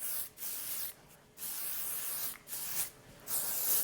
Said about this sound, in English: double up my heat protectant with a dry heat protection spray